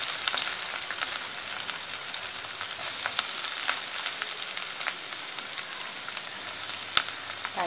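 Onion fries in hot oil for kasuri methi with a steady, crackling sizzle, close and even throughout, with a single sharp knock near the end.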